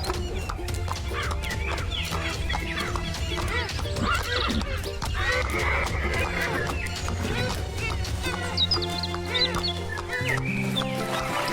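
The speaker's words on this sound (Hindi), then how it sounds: "राजा अपने घोड़े पर सवार होता है और जादुई तालाब की तरफ रवाना हो जाता है।" A horse neighs and its hooves clip-clop steadily in a Hindi cartoon story as a king rides off toward a magical pond, with bright music and effects layered throughout.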